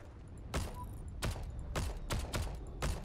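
Gunfire rings out in the online shooter Heroes and Generals during a villa defense, about six sharp shots spaced irregularly over a steady background.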